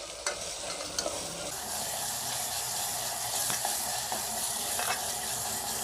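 Green chillies sizzle in ginger garlic paste for a prawn biryani, a steady close frying crackle with a few sharp stirring scrapes and taps against the pan, no voices.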